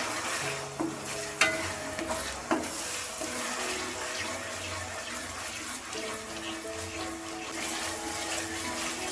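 About a hundred grams of ginger garlic paste stir-fries in a pan for chicken curry, a bright continuous sizzle with a few louder scrapes and clinks of the spoon, close up, no talk.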